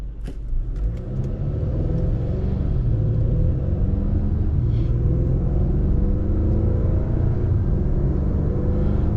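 Acura TLX A-Spec SH-AWD accelerating at partial throttle, a steady, loud engine drone with rising harmonics heard from inside the cabin over road rumble, continuous throughout.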